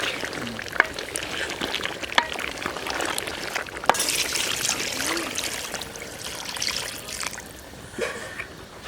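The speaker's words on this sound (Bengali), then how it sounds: "এখন হচ্ছে নামু পানি দিয়ে দিবে হাঁসে।" Water splashes and trickles steadily into a pot of duck curry for several seconds, with a few sharp clinks of metal along the way.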